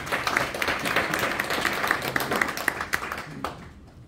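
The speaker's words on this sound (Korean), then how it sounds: "박수 한번 부탁드리겠습니다." Audience applause fills a forum hall on air power generator development, steady clapping from many hands that fades out near the end.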